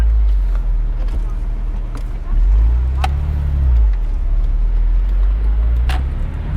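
A Porsche 997.1 Carrera 4S Cabriolet pulls away with a deep, close engine rumble that swells about a third of the way in and holds steady, with a voice talking over it.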